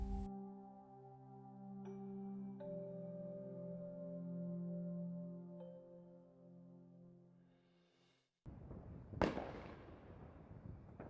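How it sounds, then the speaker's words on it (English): New Year's fireworks burst over a city sky: a sustained musical passage gives way to a sudden cluster of crackling, booming explosions, with one sharp loud blast rising above the rest. "Hundreds of fireworks exploded in a riot of color"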